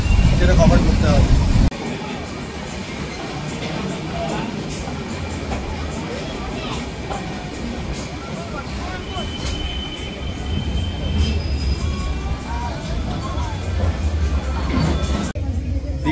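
The Digha Howrah Kandari Express rolls along just after leaving Digha station, a steady close rumble of wheels on track with occasional thin metallic squeals riding above it.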